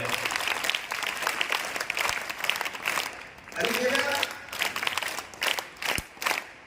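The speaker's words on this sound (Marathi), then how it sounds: "आपण त्यांच्यासाठी टाळ्या वाजवूया" An audience at a school gathering claps for a disciplined class, with a sustained burst of applause that swells and fades over several seconds while a voice speaks over it.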